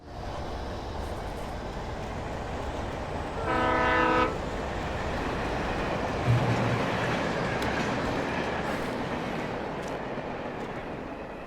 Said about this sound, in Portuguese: Bom, o trem passa bem aqui.